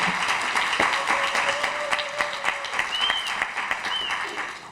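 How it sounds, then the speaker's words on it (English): Audience applause at a film screening and discussion, a sustained crowd of steady clapping for several seconds, fairly loud and close, with a few scattered sharper claps standing out. "another round of applause"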